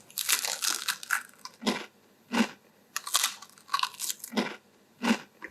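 Crisp bread and cheese sandwich crunched up close, a series of loud, dry bites and chews in uneven bursts separated by brief pauses.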